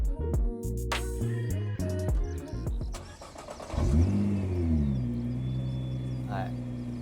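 A Nissan GT-R fitted with an Amuse R1 titanium exhaust and a catalyser produces a loud, steady engine drone. The tone swells and shifts pitch partway through as the revs rise, and voices can be heard underneath.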